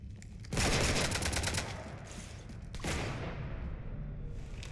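Sustained automatic gunfire from the video game Mass Effect rakes a ship, a loud, dense burst of rapid shots that cuts off, then a second, softer barrage trailing into echoing rumble.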